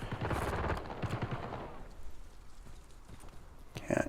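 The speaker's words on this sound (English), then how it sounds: "somebody else starts shooting at me, so I gotta reposition" Rapid bursts of video game gunfire, dense and loud at first and then thinning to scattered shots, with a voice talking over the start and a sharp crack near the end.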